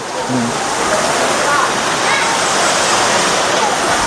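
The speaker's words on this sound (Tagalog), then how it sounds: "ito yung first falls na nabisita namin dito sa South" Steady, loud rush of a waterfall fed by Kabutungan Falls at Fern Valley Resort in Ginatilan, Cebu, a dense continuous roar of falling water throughout, with brief faint voices underneath.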